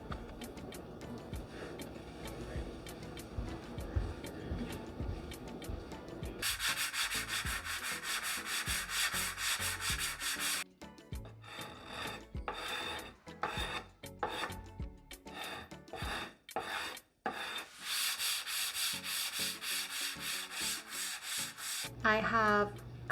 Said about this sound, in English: Hopefully the final finishing sand of this drywall mud.